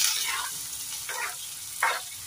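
Green chili sizzling in hot oil in an iron kadhai, a steady, close frying hiss with a few brief louder crackling bursts and no voices.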